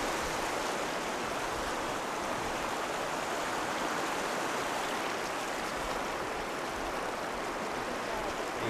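A river in a Tahiti valley, its water rushing in a steady, dense wash that stays loud and close throughout with no break.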